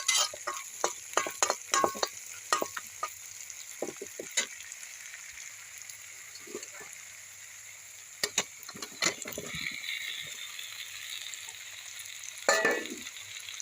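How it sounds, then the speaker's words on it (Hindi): Potatoes stirred and fried in a spice masala, with repeated scraping strokes of a spoon against the pan over a soft continuous sizzle, sharper clanks clustered early and again near the end. "अब 3 से 4 मिनट के लिए हम इस आलू को चलाते हुए भून लेंगे"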